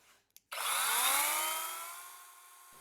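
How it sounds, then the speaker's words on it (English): A couple of faint clicks, then a Kobalt 24V 6-inch battery chainsaw roars up and cuts steadily through lumber, its whine rising and slowly easing before stopping abruptly. "we're going to go ahead and see how it chops here on this piece of lumber"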